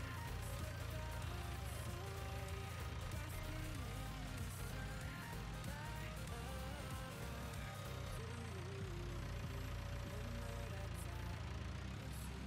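Tractor engine in the game Farming Simulator 19, heard from inside the cab, a steady low drone with a dense mechanical hum that holds at an even level throughout.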